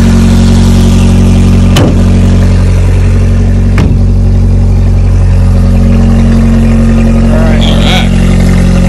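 A 1979 Honda Prelude barn find engine running at a steady, loud idle close by after starting, with a couple of sharp clicks or knocks and brief talk near the end.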